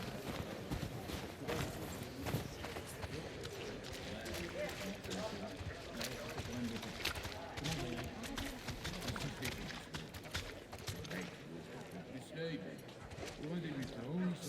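Horse hooves clip-clop at a steady walking rhythm in the video game The Last of Us Part II, fairly quiet, beneath people talking and background ambience.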